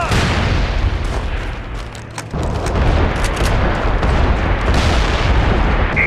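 An artillery barrage firing for effect in a war drama: loud, dense rumbling booms and blasts roll on without a break, with one brief dip near two seconds before the heavy bombardment resumes.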